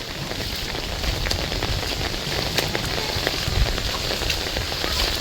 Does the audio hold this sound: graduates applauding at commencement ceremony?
no